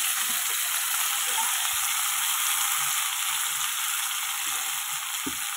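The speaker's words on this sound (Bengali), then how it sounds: "শুকনো লঙ্কা কালো জিরে ফোড়ন দিয়ে এই যে এটা ঢেলে দিচ্ছি, আলুটা পুরো ঢেলে দিলাম" Cubed potatoes tip into hot oil tempered with dried red chilies and nigella seeds, setting off a loud, steady sizzle that holds evenly throughout with faint stirring clatter underneath.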